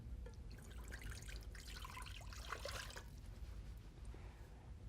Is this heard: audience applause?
no